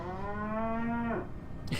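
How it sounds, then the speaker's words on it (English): A cow in the Sam and Max video game lets out one long, loud, close moo that holds steady for over a second before cutting off, followed by a brief rustle. "He's a goddamn cow again."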